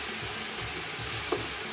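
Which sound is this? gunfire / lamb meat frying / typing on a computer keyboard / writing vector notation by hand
lamb meat frying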